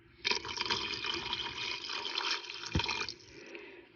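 Two cups of water poured into a pot of Cuban beef stew (carne con papas), a continuous close splashing stream lasting about three seconds with a soft thump near the end before fading.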